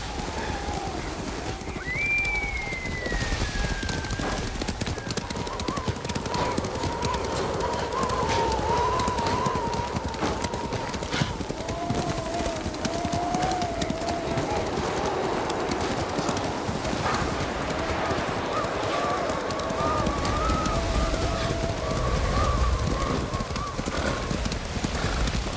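Hooves clop steadily in a fast gallop in the video game Ghost of Tsushima, with a horse neighing, under a continuous rumble and occasional voices.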